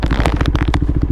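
A classic Honda CB750 Four F1, a 2024 KTM Duke 390 and a Suzuki Bandit riding along, with a steady, loud engine pulse close by and broken by rushing wind buffets and clattery bursts.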